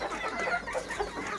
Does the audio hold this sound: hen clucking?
yes